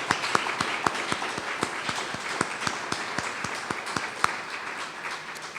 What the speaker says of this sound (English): Let's give Belmont another round of applause.